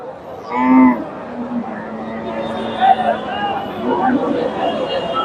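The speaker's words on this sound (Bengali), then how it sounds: "এখানে মাসাল্লাহ দেখেন বেশ বড় একটা গাভী" A Friesian cow gives one loud, close moo at a cattle market in Bogura, then a busy crowd murmur and scattered voices continue.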